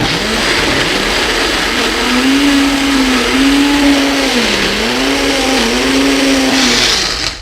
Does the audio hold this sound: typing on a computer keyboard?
no